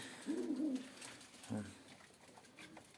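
Pigeons coo softly in a loft where a hen sits on eggs, two short throaty bursts of cooing separated by a pause, faint and close against a quiet background.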